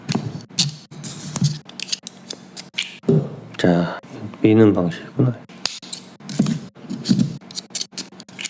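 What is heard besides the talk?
tape being torn off a microphone box while unboxing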